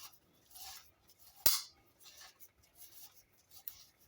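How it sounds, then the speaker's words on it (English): A Tecumseh lawnmower recoil starter clicks once as the recoil seats back into its socket, a sharp close snap standing out from faint scraping and handling rustle. "That click you heard was the recoil going back into the socket."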